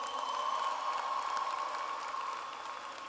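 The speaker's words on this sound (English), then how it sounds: "Give yourselves a big round of applause." A graduation audience applauds in a large hall, a steady wash of many hands clapping at even volume that fades slightly toward the end, with no voices over it.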